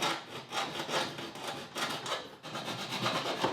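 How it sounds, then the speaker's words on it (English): A hand file rasps back and forth in steady strokes, each scraping pass rising and fading in an even rhythm, close and fairly quiet with no voices over it. "you want to start filing from the bottom"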